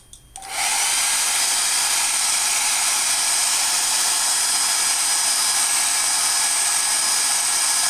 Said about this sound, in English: I'm just going to go ahead and activate the heat detector with the hair dryer.